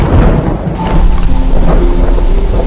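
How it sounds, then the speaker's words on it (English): Steady rain falls with a heavy, continuous rushing hiss and a low rumble underneath, loud and unbroken throughout. "Yes, this is rain."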